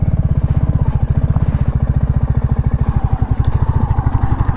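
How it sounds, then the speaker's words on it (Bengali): A motorcycle engine idles close by with a steady, fast, thumping exhaust pulse while the bike is turned around on an evening ride near the Mukutmanipur dam. "বাইকটা একটু ঘোরাতে হবে"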